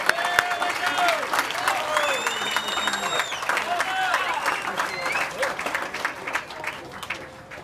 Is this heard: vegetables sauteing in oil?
no